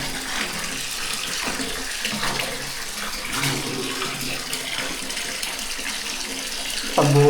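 A household tap runs in a steady, unbroken stream of splashing water, close and moderately loud, with a brief clatter near the end.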